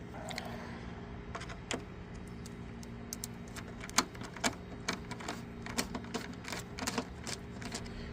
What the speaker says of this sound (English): to remove those screws, I'm gonna be using flathead screwdriver